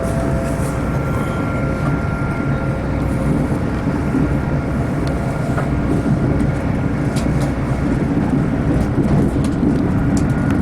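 A Northern train from Chat Hill passing near Alnmouth, a loud, steady rumble of wheels and carriages that holds at close range for the whole stretch, with no voices.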